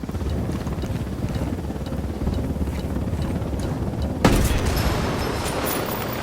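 Enemy helicopter in the video game Ghost Recon Wildlands, its loud continuous rotor drone running throughout, broken partway by a sharp explosive boom that leaves a brighter rumbling wash behind it.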